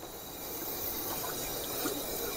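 Water from curdled milk drains and trickles through a cloth while chhena is strained for Diwali halwai-style sweets, a steady soft flow running without pause at low level.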